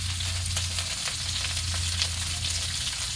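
Pork chops sear in a hot pan with a steady, close sizzle and crackling spatter that carries on throughout, with no talking.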